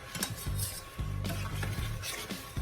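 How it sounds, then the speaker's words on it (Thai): Young coconut and rice flakes mixture for a Thai dessert being stirred in a bowl, with steady scraping and rubbing strokes repeating in short rhythmic bursts up close. "คนนะคะ"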